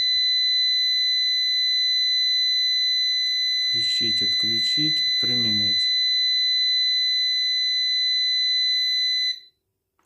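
The buzzer on a new PowMr 3 kW inverter holds a steady piercing tone under a man's brief speech, then cuts out abruptly near the end.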